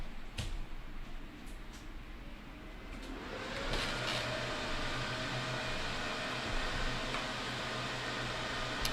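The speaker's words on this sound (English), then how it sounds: "That's a server." Server fans in a basement data center hum as a steady broadband whoosh that swells a little partway through, with faint clicks and no talking.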